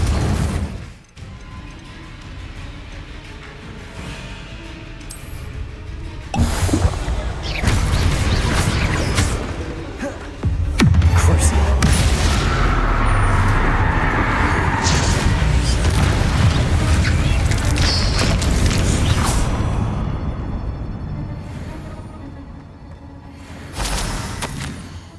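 Confringo fire spell cast in the Hogwarts Legacy video game, erupting into loud booming blasts and crashing, whooshing impacts that rumble continuously over about twenty seconds, with bursts near the start and a dense sustained roar in the middle.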